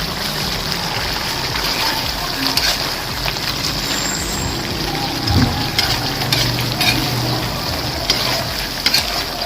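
Green chilies and labuyo chilies stirred together in a hot frying pan, giving a steady crackling sizzle with occasional scraping and stirring bumps, close and fairly loud throughout.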